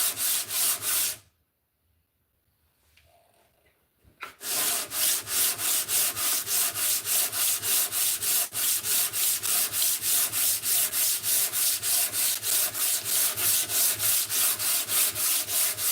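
Sandpaper rubbed back and forth over wood in a workshop, fast, even scratchy strokes close up, briefly pausing into near silence before resuming a steady rhythm.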